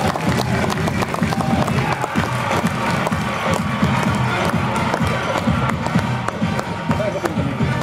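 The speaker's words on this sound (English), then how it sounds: "Give him a round of applause." A crowd claps and cheers for a panel organizer at an indoor speaker-series event, dense applause with sharp individual claps and scattered whoops, steady and fairly loud throughout.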